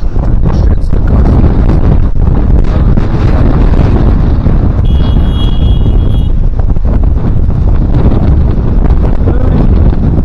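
Strong wind gusting under large oak trees at an outdoor ditch-clearing and planting site, a loud continuous roar buffeting the microphone for the whole stretch with no letup.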